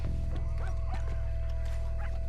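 Dogs bark and yip in Red Dead Redemption 2, several short sharp barks scattered over a steady low in-game hum, with faint clip-clop of horses mixed in.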